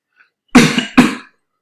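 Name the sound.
coughing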